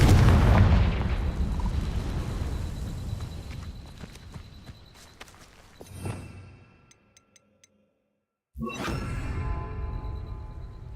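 Confringo fire spell cast in Hogwarts Legacy, a loud burst and rumble with crackling debris that fades into near silence, followed by another rush of sound; heavy game noise fills the start.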